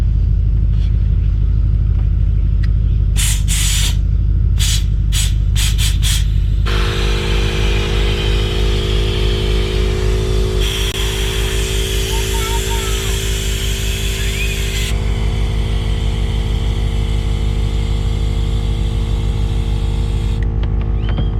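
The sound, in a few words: electric air pump inflating an inflatable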